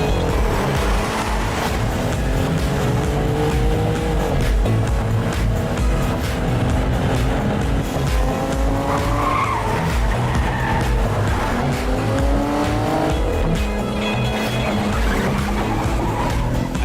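A sports car speeding off in a film scene, loud engine roar with repeated tire squeals and rising revs sustained throughout, close and without speech.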